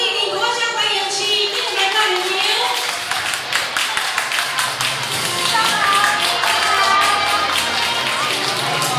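Audience clapping to welcome the Taichung association chairman as a guest at a concert event, a steady dense patter of many hands through the whole stretch with a voice speaking over it.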